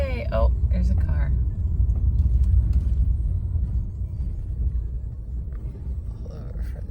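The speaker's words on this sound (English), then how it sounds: "Oh, there's a car." A car passes on a flooded road during storm season, a deep rumbling engine and wash of water under steady vehicle noise, with brief voices and a few tonal sounds over it.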